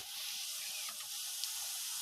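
Nigella seeds hitting hot oil with browned fried onions, a steady close hiss of sizzling held for a couple of seconds, alone without talk.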